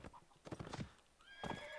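Horse neighing and hoof clops in the video game Mount and Blade Warband, a short whinny after a few hoof beats, with a sustained tonal cry near the end, moderately loud.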